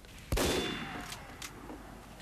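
Gunfire from the Team Fortress 2 video game: one sharp, loud shot followed by a decaying tail and a couple of fainter later bursts, with no talking.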